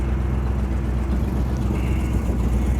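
A loud car engine idles and rumbles steadily at a muffler shop, just unloaded from a flatbed, a dense, constant low roar close by with no pauses.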